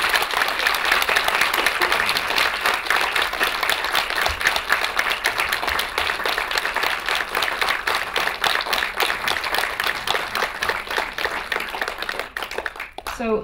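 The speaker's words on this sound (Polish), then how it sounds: "So this round of applause was to you" A festival audience at the Millennium Docs Against Gravity film festival applauds steadily for about twelve seconds after a screening, dense and loud, then the clapping thins out and stops.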